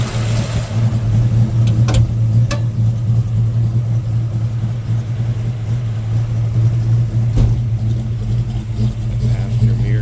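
A 1969 AMC AMX with a 343 V8 and four-speed, rotisserie restored, driving along with a loud, steady low engine drone and road rumble, a couple of sharp knocks near the start.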